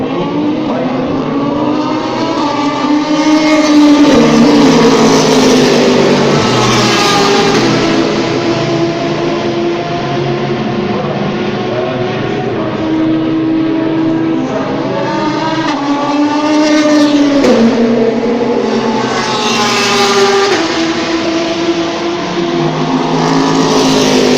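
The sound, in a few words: race cars at Le Mans 24 Hours test day, blue Ferrari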